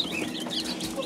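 Young Kuchinskaya Jubilee breed chicks peep in a soft, continuous chorus of high chirps, overlapping and fairly close, with faint clucking beneath.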